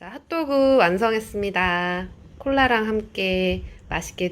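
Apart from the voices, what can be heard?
No everyday noise stands out behind the speech.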